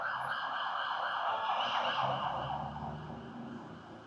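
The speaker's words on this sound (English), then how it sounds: "There's a siren here" An emergency siren wailing outside a coffee shop in Japan, a rising and falling electronic tone heard at moderate distance that slowly fades as it passes, with no talk over it.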